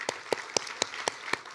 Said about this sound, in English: let's give a big round of applause to the supporters and the family members